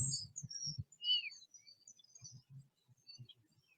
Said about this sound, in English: So out here in the marina, we have some birds behind us.